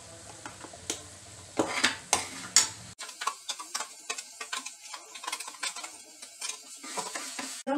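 Tomato paste frying in a pan at home, stirred with a utensil: sizzling under repeated scraping and tapping strokes of metal against the pan, close and fairly loud.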